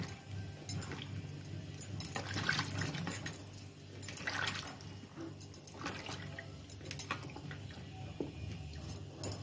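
Vegetables are rinsed in water by hand, with quiet sloshing, drips and splashes coming in uneven bursts, plus a few light clinks of a container, close and fairly soft.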